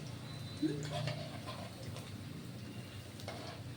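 Lentil and jute leaf fritters deep fry in hot oil, a low continuous sizzle and bubbling heard close up beneath a voice talking.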